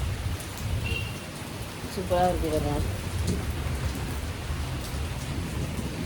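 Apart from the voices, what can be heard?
heavy rain falling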